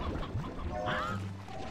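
Chickens cluck in the video game Slime Rancher 2: a few short, fowl-like calls over a steady background bed of game sound, mid-distance and moderately loud.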